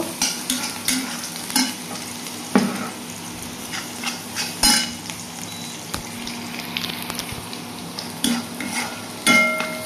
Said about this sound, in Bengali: মাছগুলো ভাজা হয়ে গেছে, এখন পেঁয়াজটা আমি হালকা ভেজে নিব।